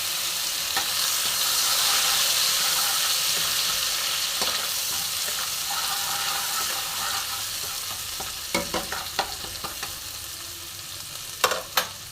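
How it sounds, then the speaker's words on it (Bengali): White cumin paste, ground with a little water, fries in a dry kadai for Kashmiri aloo dum. A loud, even sizzle fades gradually, followed by a few sharp spatula scrapes and clinks near the end. "আর একটু ভাজা ভাজা হোক।"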